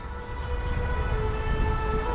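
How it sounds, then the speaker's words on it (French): Fire engine sirens heard from afar at a Téléthon charity event in Saint-Laurent-du-Var, a steady wailing tone sustained over constant low outdoor rumble and crowd murmur. "on entend au loin les sirènes de pompiers"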